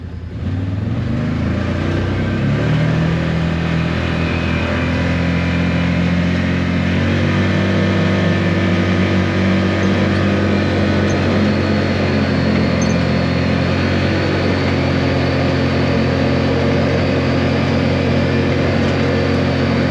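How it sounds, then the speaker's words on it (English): Steady cabin drone and road roar from a Can-Am Defender Max Lonestar side-by-side cruising at about 40 mph on Maxxis Carnivore tires and MSA Boxer wheels, continuous and even throughout with no talk. "Take it up to about 40 miles per hour so we can see what the road noise is"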